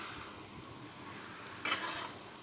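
Raw fish pieces go into a pan of oil with turmeric, chili and coriander powder. A low steady frying hiss swells into a louder, brighter sizzle as the fish hits the pan, then settles back.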